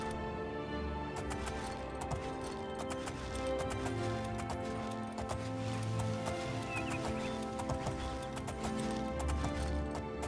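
Horse hooves clip-clopping with a neigh, amid busy game music and ambient effects in The Elder Scrolls IV: Oblivion, fairly low in the mix throughout.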